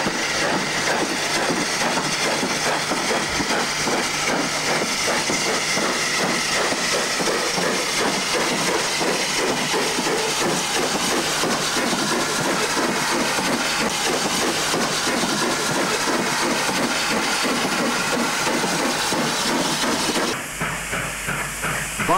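A steam goods train in New South Wales with a standard goods banking engine, loud continuous hissing steam and rapid rhythmic exhaust chuffs throughout, close by, with a brief quieter moment near the end.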